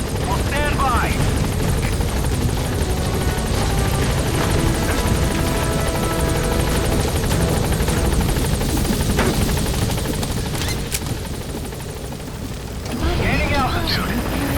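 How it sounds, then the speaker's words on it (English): Pequod, a support helicopter in Metal Gear Solid V, roars steadily with loud, close rotor noise throughout, fading slightly near the end before swelling again, with radio chatter over it. "Support helicopter. This is Pequod. I have arrived at marker."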